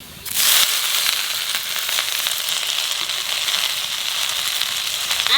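Leafy greens dropped into a pan of frying garlic and black cumin, a sudden loud burst of sizzling that settles into a strong, steady hiss and crackle.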